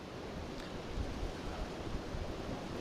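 Cold outdoor wind blows steadily across the microphone, a soft, continuous rushing noise with gentle gusts and no other clear sounds.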